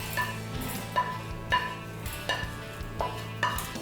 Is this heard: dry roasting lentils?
yes